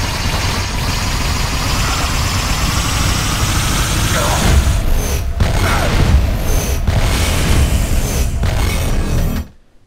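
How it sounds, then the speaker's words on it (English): Warp rifle in the video game Fuse setting off a chain of black holes, a loud sustained low rumbling roar with mechanical whooshing and several dull booms in the second half, ending abruptly. "Nia can also tag enemies with the warp rifle and set off a chain of black holes."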